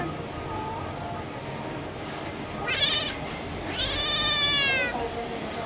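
A cat meows twice in a home setting, the first call short and the second a longer drawn-out wail, heard fairly close over a steady low background hiss.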